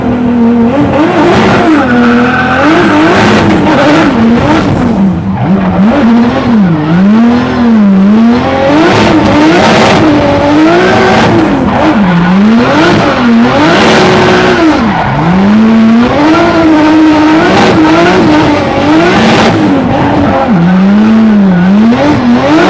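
A drift car revs hard around a track, engine note rising and falling in repeated swoops while tires squeal and skid, loud and close for the whole stretch with no talking.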